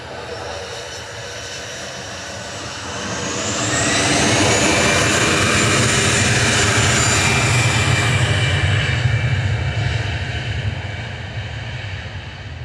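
An Airbus A319 jet airliner roars past at Manchester Airport, its engine noise swelling to a loud, steady peak before easing off slightly as it moves away.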